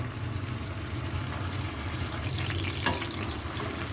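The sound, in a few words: onions frying in oil with cumin seeds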